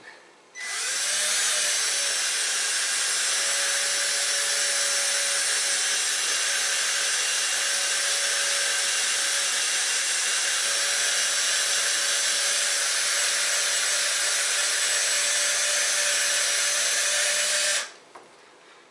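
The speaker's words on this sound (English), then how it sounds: "and then I'll turn the drill on." A power drill runs steadily while drilling out the head of a pop rivet on a Softride bike rack, a continuous loud whine held for about sixteen seconds with no talk.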